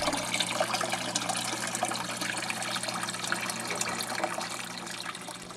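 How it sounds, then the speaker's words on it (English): A Maxi Jet 600 aquarium powerhead pumps water through a hose into a fish tank, giving a steady, continuous rush and gurgle of flowing water at moderate loudness with a low hum underneath. "I place the other end of the hose into the tank and turn on the pump."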